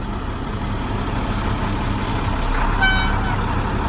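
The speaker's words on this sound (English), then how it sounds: "I'm gonna put my vehicle in drive and tap the accelerator and tug against my parking brake" Class B truck in drive with its accelerator tapped against the engaged parking brake during a tug test, its engine a steady low rumble throughout, swelling slightly near the end, with a brief faint horn-like tone.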